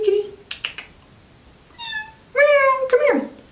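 A cat meows twice, a short call then a longer, drawn-out meow, close and clear, with a person's voice speaking softly around the cries.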